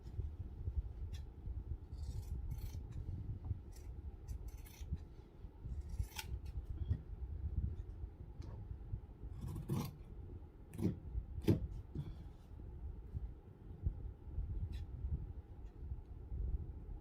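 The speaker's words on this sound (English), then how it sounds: "That way you can cut them both at the same time." Scissors snip through two layers of fabric pinned together, giving a steady run of close, crisp cuts over a soft background rustle, with no talking.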